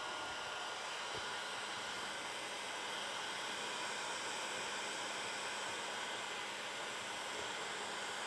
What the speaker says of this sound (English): then you take your heat gun, and this is a Milwaukee's tool version here, turn it on